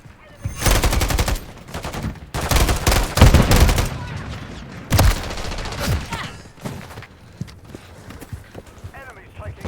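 Light machine gun fire in a multiplayer shooter game: loud bursts of rapid automatic shots in several clusters, with scattered single cracks and footsteps between them, while players talk over the action.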